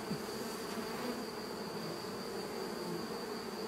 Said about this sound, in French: C'est l'émergence d'une abeille.